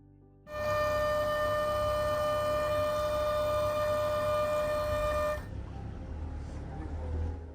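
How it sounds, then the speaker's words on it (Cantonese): A tour boat sounds its horn in Otaru harbour, one long loud sustained blast that holds steadily for about five seconds and then cuts off, leaving engine and water rumble behind. "遊覽船會響笛，完成港口一段嘅旅程。"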